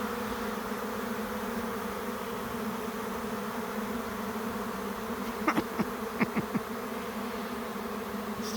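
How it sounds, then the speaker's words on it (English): A swarm of honey bees moving into empty hive boxes fills the air with a dense, continuous buzzing close around, with a few brief louder passes of individual bees near the end. "I'm right in the middle of a swarm of bees."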